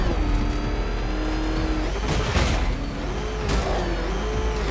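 Video-game car engine from Batman: Arkham Knight roars steadily and close, with a couple of brief whooshing surges as it pushes hard, no voices over it.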